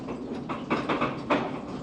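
A mine train rolls through a long underground tunnel, its steady rumble carrying rising rattling surges of metal noise from the cars, close and moderately loud with no talking.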